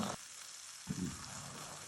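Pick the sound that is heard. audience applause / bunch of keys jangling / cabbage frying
cabbage frying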